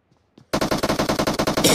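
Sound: gunfire in a battle royale video game

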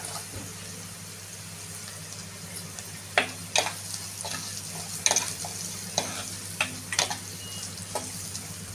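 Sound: stirring chopped garlic and onion frying in pan

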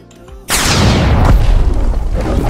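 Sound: Finger revolver shot, leopard fruit, Blox Fruits video game

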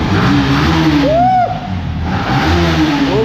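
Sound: second-hand motorbike engine revving

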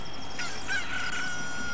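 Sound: bird crowing in video game Zelda Ocarina of Time

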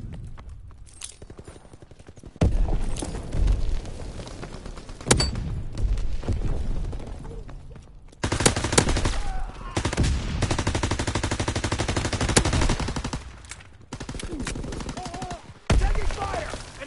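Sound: gunfire and machine gun fire in a WW2 video game

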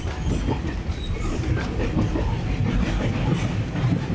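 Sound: passenger train moving on rails

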